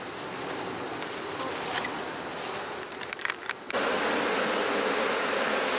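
Honeybees hum and buzz densely from an opened hive during an inspection of the second brood box, a steady swarm drone with brief rustling and handling noises midway.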